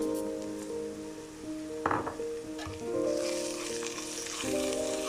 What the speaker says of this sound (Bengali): পেঁয়াজ আদা রসুন এখানে আমি এগুলো ভালোভাবে ব্রাউন করে নিব ভেজে নিয়ে আমি মেথি দিয়ে দিলাম